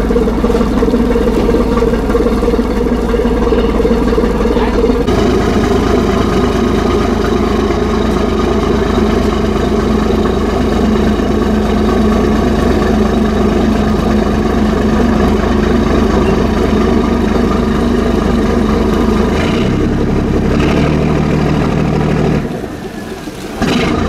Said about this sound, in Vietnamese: nhìn cái bô bự ghê. Nghe tiếng hết hồn